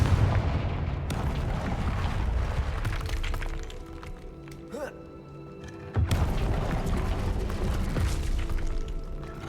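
Confringo fire spell explosions in the video game Hogwarts Legacy, with loud broadband blasts near the start and again later over a continuous dense rumble of game sound.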